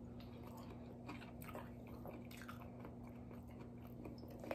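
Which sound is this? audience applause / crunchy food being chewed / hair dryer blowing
crunchy food being chewed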